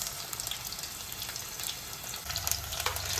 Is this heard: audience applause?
no